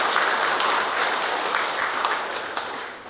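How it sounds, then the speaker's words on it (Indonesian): Guests at a Batak traditional wedding applaud the newly married couple, a dense, close crowd clapping that tapers slightly toward the end. "kita beri tepuk tangan"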